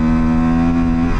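A motorcycle engine roars loud and close at speed, a steady droning tone that climbs slightly in pitch as it accelerates on the road, with wind rush underneath.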